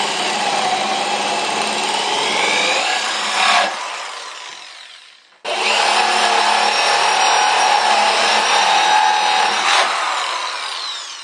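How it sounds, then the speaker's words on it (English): A power drill bores dowel holes into wood in two long, loud whining runs, with a short pause between them, close up and alone. "now I'm going to drill the holes for the wooden dowel"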